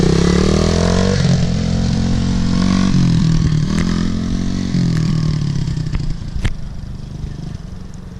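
A motorcycle engine runs while being ridden, a loud close throaty drone that rises and falls with throttle changes, dropping toward the end, with a few sharp clicks.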